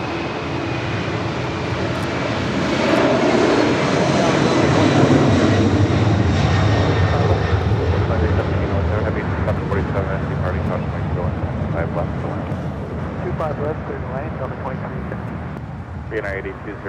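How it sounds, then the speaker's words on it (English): A Lufthansa heavy airliner takes off from runway 25 left at Los Angeles International Airport, its jet engines a loud, sustained roar that swells and then slowly fades, with a voice talking faintly underneath. "runway 25 left, start to take off."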